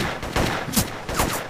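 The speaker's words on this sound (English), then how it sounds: "You guys stop shooting me!" Gunfire in the zombie video game Left 4 Dead 2, with several bursts of shots and rapid volleys popping in quick succession over a steady background din, fairly loud and close.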